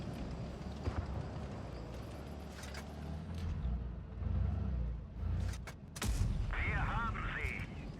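Tank cannon shots in the mobile battle game WoT Blitz, fired as a few sharp bangs over a continuous rumble of engines and battle noise, with a voice faintly present.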